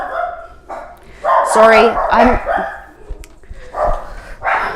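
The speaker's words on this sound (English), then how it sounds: "my daughter's puppy is driving me insane. The two males don't stop barking." Two male dogs barking indoors at home, sharp barks scattered through the middle under someone talking close by.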